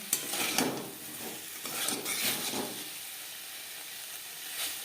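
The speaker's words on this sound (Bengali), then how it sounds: "হাই টু মিডিয়াম ফ্লেমে আমি দু তিন মিনিট নাড়াচাড়া করে নিয়েছি একেবারে ড্রাই হয়ে গেছে" Cauliflower stir-fried dry in a pan over a high-to-medium gas flame, a close sizzle with repeated scraping stirs that fade into a quieter hiss, with no speech.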